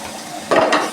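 Square-cut onions go into a pan, with a short burst of sizzle and a stir scrape rising over a quiet kitchen background, close and brief.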